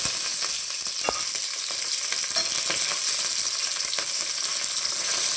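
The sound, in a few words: cumin, garlic, dried chillies, curry leaves sizzling in oil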